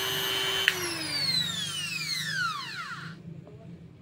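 An Ingco 130-watt mini grinder runs at its lowest speed, its motor whine sliding steadily downward as it spins down to a stop, close and moderately loud.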